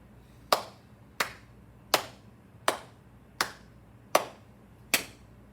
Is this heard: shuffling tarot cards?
no